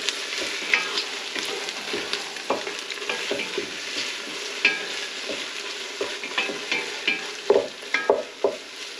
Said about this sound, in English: Now, swish that paste in, get it all nice and mixed up in there. Cook it all in.